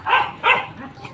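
A pet dog barks twice at home, sharp and fairly close, then lets out a softer yip.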